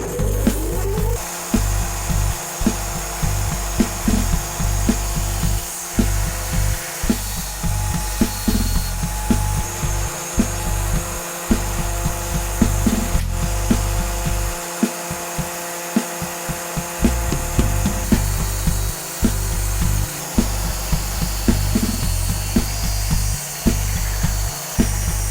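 A home-built CNC router's blade cuts full-size pieces of wood with a loud, steady high whine and grinding rasp, punctuated by brief regular dips as the cut pauses, continuing close and unbroken for the whole stretch.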